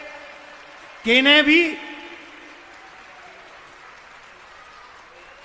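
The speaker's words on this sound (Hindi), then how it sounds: "जोरदार ताली बजाइए" Crowd applause welcoming Dhirendra Shastri of Bageshwar Dham at a Sanatan Dharma assembly in Kanpur: a steady, diffuse wash of clapping with a loud amplified voice cutting in briefly near the start.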